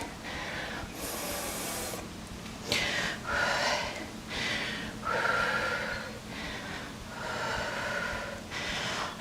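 Deep, audible breaths during a yoga strength session for teachers, with repeated inhale and exhale swells, some sharp and snort-like, following a steady rhythm and sounding close, with no talking.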